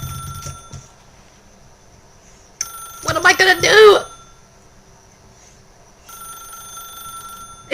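A telephone rings in The Stanley Parable video game, its steady electronic tones repeating across the clip, broken by a pause while someone speaks briefly over it.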